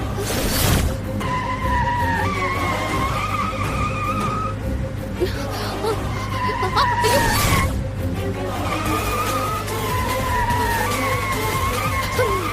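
A car with failed brakes skids in a TV drama scene, tires screeching in long wavering squeals over a loud engine rumble, with a heavy impact-like burst partway through.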